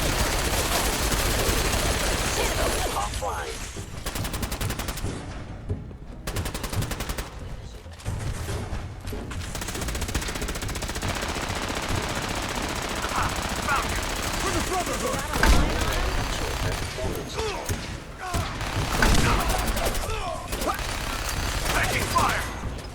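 Sustained gunfire in Fallout 4, with bursts of automatic weapons fire and scattered shots over a dense, loud battle mix, while voices call out throughout.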